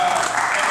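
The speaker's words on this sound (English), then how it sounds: "I want to first and foremost give you a round of applause for coming tonight" A brief burst of audience applause fills a high school alumni association meeting, a dense even patter of clapping heard for under a second.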